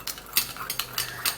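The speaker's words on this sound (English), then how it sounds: "So you're gonna stir this really good" Spoon scraping and clinking against a bowl while stirring a brown sugar lip scrub mixture, several close, regular strokes with short bright ticks, moderately quiet, no talking.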